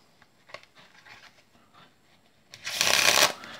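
Playing cards are pushed together in a faro shuffle, with a few faint taps and handling sounds before a short, crisp ripple of the two squared packets interlocking, close and clear.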